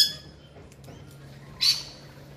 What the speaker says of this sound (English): Lorikeet's on one feeder. Corella on the other.